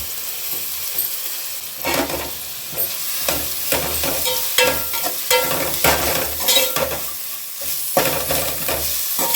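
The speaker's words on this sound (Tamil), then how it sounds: "இதையும் நல்லா வதக்கலாம். அது கூடவே வந்து கொத்தமல்லியும் புதினாவும் சேர்த்துக்கலாம்." Coriander and mint sauté in a hot pan for prawn biryani, giving a close, continuous sizzle. Quick stirring strokes and scrapes rise above it in an uneven rhythm, with no voices.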